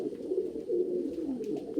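Pigeon cooing close by in a low, continuous, throaty murmur that rises and falls steadily for a couple of seconds, with no talking over it.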